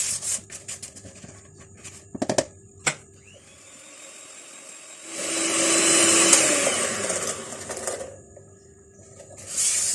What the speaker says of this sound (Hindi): थोड़ी थोड़ी चीनी डालेंगे और इसको बीट कर लेते हैं।